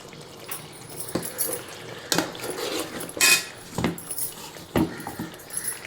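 Tamarind rice is stirred in a pan, with intermittent metallic scrapes and clinks of a spoon against the vessel, irregular and close, between quieter stretches.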